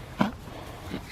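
Pet dogs on a walk whimpering and making strangled attempts to bark: two short, thin yelps about a second apart, close by, over faint outdoor background noise.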